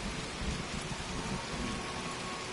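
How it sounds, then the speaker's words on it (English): Steady, dense rain hisses without a break inside Fallout 76 on PlayStation 4 Pro, a continuous wash of downpour with a low rumbling undertone. "Then how come it's raining right here though?"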